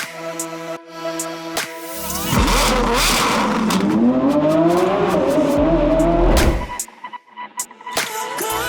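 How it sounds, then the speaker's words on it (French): A Porsche sports car with a new tuned setup revs its engine: short blips, then a loud sustained rising roar for several seconds, which cuts off into a rumbling idle with a few further blips. "Ma Porsche avec sa nouvelle configuration."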